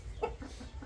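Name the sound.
rooster clucking on a farm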